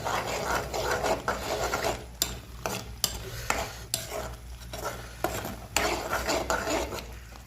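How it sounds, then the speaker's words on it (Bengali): Onions sautéing and being stirred in a pan for a tomato-based dish, with a soft steady sizzle broken by repeated clinks and scrapes of a utensil against the pan, close by and with no talking. "এই পেঁয়াজ কষাইতেছি।"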